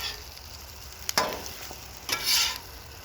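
Sun-dried tomato pesto stirred and scraped on a hot outdoor griddle at night, a steady faint sizzle broken by two louder bursts of spatula scraping and hissing.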